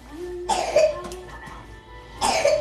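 Two separate coughs, close and fairly loud, with a quieter stretch of voice between them.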